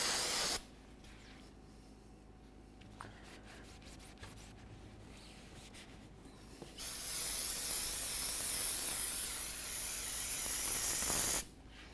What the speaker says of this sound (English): We'll use some parts cleaner and a rag.